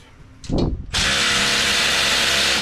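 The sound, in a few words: impact wrench working on bolts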